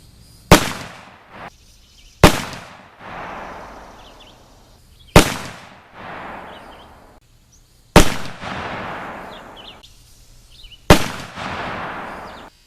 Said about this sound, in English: This is going to be a series of 6 shots with round ball and 25 grains of 3FG